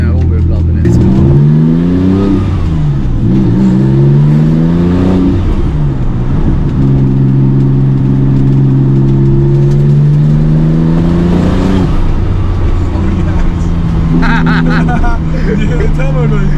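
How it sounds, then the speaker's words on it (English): Porsche 911 GT2 Evo 993 turbo engine accelerating through the gears, heard loud from inside the car as repeated rising engine sweeps that drop at each shift, with a steady roar under occasional talk. "turbo noises"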